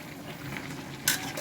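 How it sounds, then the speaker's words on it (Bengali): Onions sizzle in a pan alongside chicken pieces being fried for a chicken fry. A steady crackle runs throughout, with one sharp utensil clink near the end and no voices. "এই যে এই পেঁয়াজগুলো কিন্তু আমি দিয়ে দিচ্ছি"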